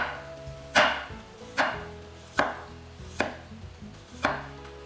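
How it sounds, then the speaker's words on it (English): A knife slices through a raw potato on a cutting board: five crisp, evenly spaced chops, each a sharp close thud with a short tail. "This will create a stable base for you to cut the potato in a safer manner."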